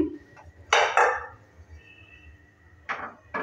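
A metal kadai is set down on a kitchen gas stove, giving a couple of sharp metallic clanks and scrapes close by, with the low hiss of the burner underneath.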